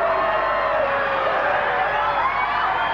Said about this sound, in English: Big cheer now for the Geelong boys